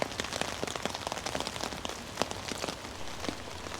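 Rain pattering steadily on a surface beside a fishing swim at a live match fishing final, dense close drops with no voices.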